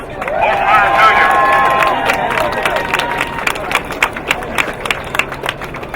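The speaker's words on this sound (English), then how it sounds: "Can we get a round of applause for Representative Price?" Outdoor protest crowd at a gun-violence march claps and cheers, with dense applause and scattered whistles and shouts, sustained throughout and gradually thinning into sharper individual claps near the end.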